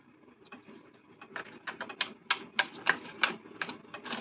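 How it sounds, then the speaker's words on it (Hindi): A deck of cards is shuffled during a tarot-style reading, giving quick clustered flicks and soft clicks that grow denser and louder over a few seconds, close and alone. "मैं कार्ड शफल कर रही हूँ।"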